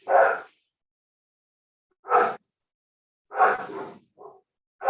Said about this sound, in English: Tu perrito me está volviendo sorda.